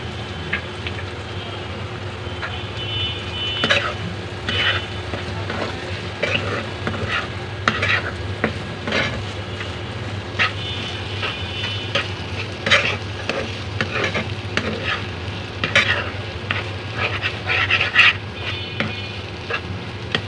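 Dried-fish paste (shutki bhorta) made with pangas fish is stirred while frying in a pan: a steady close sizzle under a rhythmic run of utensil scrapes and taps against the metal, lasting throughout.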